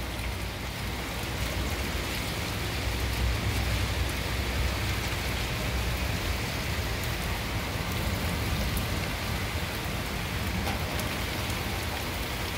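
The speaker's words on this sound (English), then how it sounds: "And it's raining so hard, it almost looks like fog." Heavy rain pours down in a constant dense roar of drops hitting surfaces, steady and loud throughout with no voices.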